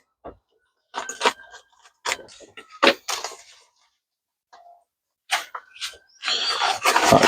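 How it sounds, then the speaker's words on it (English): Scissors snip along material while preparing strips for sowing seeds in April, heard as a scattered series of short, crisp cuts close by with quiet pauses between, and a busier burst of snipping at the end. "So I'm just gonna snip along here."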